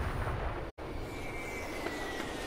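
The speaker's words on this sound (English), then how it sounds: "Explosions." Explosions boom in the video game Sniper Elite V2, a loud low rumbling blast cut by a sharp brief dropout, then a sustained roaring wash that fades slowly.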